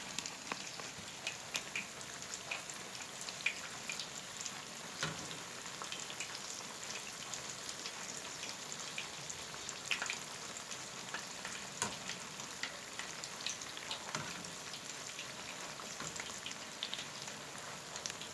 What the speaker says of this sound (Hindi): अब मैं कर रही हूँ पकौड़े फ्राई